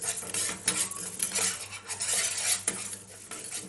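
Metal utensil scraping and stirring rice dry-roasting in a pan, steady dry scratching and clinking throughout, close and fairly loud, no voices.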